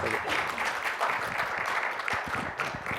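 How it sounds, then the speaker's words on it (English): Audience members at an adtech talk give a moderately loud round of applause, the clapping continuous and even with a slight fade near the end. "round of applause for Stephen"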